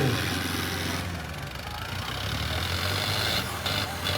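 A heavy tractor engine labouring in a Sonalika 750 versus John Deere torque pulling contest, a loud, steady rumbling drone that holds throughout, heard up close with no voices.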